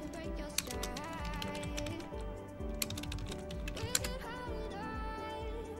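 Rapid typing on a computer keyboard, close and steady, with dense irregular key clicks and a few louder keystrokes, heard alone without speech.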